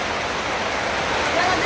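A natural waterfall swollen by rain, where people bathe, pours as a steady, dense rush of water that stays constant and fairly loud throughout the brief moment.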